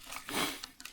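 Paper folded down for a paper McDonnell Douglas F-15 Eagle model, a faint brief rustle and crease with a couple of small crinkles afterward.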